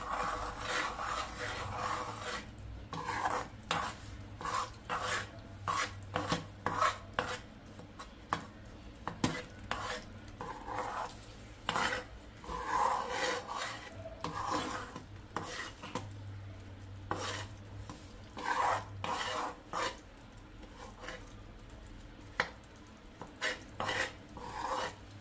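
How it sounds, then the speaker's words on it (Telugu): A thick khado mixture stirred continuously in a pot to stop it sticking, with repeated rasping scrapes of a utensil against the pot's bottom in an uneven rhythm, close and without talk. "ఇలా ఉండలు లేకుండా మొత్తం మిక్స్ చేస్తూ ఉండాలి. ఇది కలుపుతూనే ఉండాలి, లేదంటే మొత్తం అడుగంటిపోతుంది."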